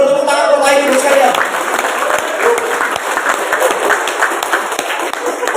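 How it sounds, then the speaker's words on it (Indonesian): An audience claps in a dense, sustained burst of applause that fades slightly but continues throughout, with voices mingling underneath. "Tepuk tangan buat Bapak Ibu sekalian."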